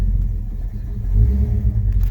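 The cammed engine of a 1970 Pontiac LeMans rumbles loudly and close while the car backs up, a deep steady idle with slight lumpy surges.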